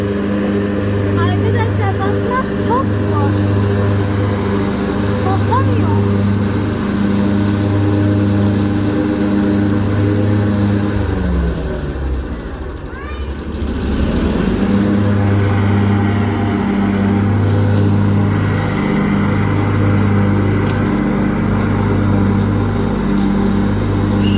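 A lawn tractor engine runs steadily up close, its low idle drone dipping briefly midway before settling back into the same even hum.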